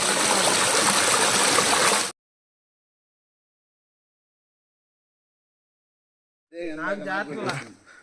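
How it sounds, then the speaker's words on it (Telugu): Steady rushing water from a waterfall at Penchalakona hills fills the first two seconds, then silence, then a voice speaks briefly near the end. "ఈ వాటర్ సౌండ్ కూడా చూసారు ఎలా వస్తుందో"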